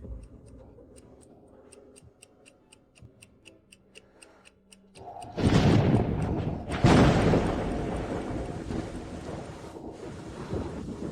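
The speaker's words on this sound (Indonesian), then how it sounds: "Hujannya deras sekali." Heavy rain bursts in with a thunder crash after a steady clock ticking, then a second rumble follows as the downpour roars on loudly.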